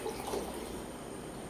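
Water running steadily into a pot for tea on an induction cooktop in a home kitchen, a continuous close, moderately faint pouring rush with no talk over it.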